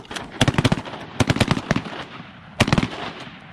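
Shotgun shots fired at geese during a hunt, several quick bursts of sharp, loud reports clustered in groups with brief quiet gaps between, with no talk.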